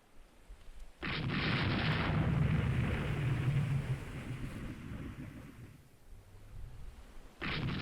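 Naval gunfire from warships in the Rule the Waves 3 game: a sudden heavy, sustained roar of cannon blasts that slowly fades, then another burst starts abruptly near the end.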